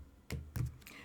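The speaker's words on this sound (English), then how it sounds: "let me go ahead and shuffle one more time" Tarot cards being shuffled give a few soft, close riffling taps and flutters, two or three short bursts within about a second, fairly quiet.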